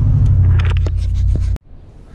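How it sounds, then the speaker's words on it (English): A car drives along with a loud, low engine rumble and a few scraping knocks, then the sound cuts off abruptly to a faint background. "so I'm going to drive right now."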